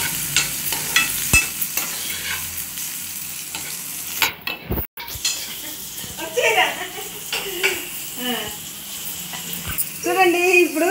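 Eggplant pieces and chillies frying in a pan, a steady sizzle with intermittent stirring scrapes, while someone talks over the cooking.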